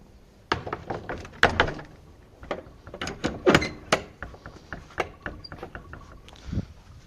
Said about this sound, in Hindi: तो चलो बंद करते हैं दरवाज़ा।